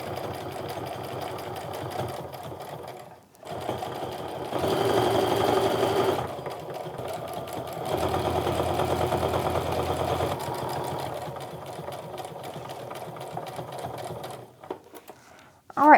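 A sewing machine stitches around a fabric wristlet in several bursts: a steady mechanical whir, a brief pause near the start, louder stretches in the middle as it speeds up, then quieter stitching that trails off.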